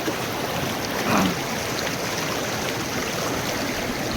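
River water flows steadily beside a spot used for washing clothes in rural Konkan, a broad, even rushing wash heard close and alone throughout.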